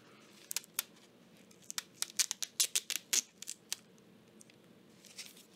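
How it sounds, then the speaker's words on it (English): A sticker on 3D printer filament spool packaging is peeled open, giving a crisp run of close crackling, tearing snaps that bunch together in the middle and then trail off. "there's a sticker that says peel here"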